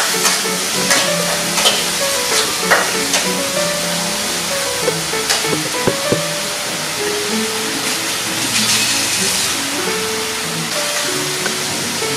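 Fish frying in a pan for fried fish with sweet soy bean sauce, a loud continuous oily sizzle with scattered pops and stirring clinks throughout.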